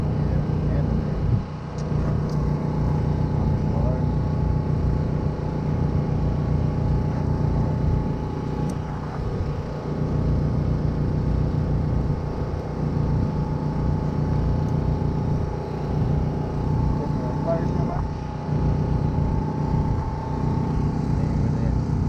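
A truck engine idles at night during a fishing setup, a steady low rumble with a constant hum running throughout, with faint bumps and handling noises over it.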